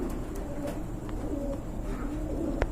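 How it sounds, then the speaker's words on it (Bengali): Pigeons cooing in a pen of pairs, soft low coos repeating several times amid a rumbling background, with a few brief sharp clicks. "এখানে কিন্তু আরেক জোড়া কবুতর দেখতে পাচ্ছেন"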